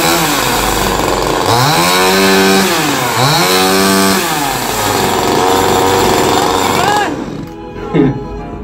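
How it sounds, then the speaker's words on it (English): A petrol chainsaw runs loud and steady, its engine note rising and falling through several revs before cutting off near the end, leaving a brief quieter tail. "This is of course a petrol chainsaw."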